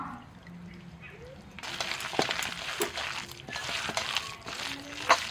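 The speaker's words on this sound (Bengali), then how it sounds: "সামান্য পরিমাণে একটু জল দিচ্ছি" A little water poured into fritter batter, a soft trickling splash that swells after a quiet start and runs steadily near the microphone amid faint kitchen background.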